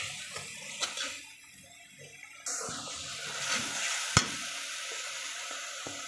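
Spice paste for a hilsa fish curry sizzles in a pan while being stirred, starting as a gentle hiss that jumps louder partway through, with occasional sharp clicks of the spoon against the pan.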